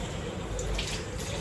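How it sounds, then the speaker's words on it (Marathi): A little water is poured into a cooker while dry vegetables are being made at home, a brief, soft splashing trickle at low volume. "एकदम थोडंच पाणी टाकते."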